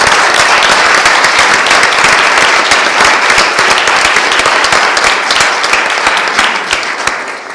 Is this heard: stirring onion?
no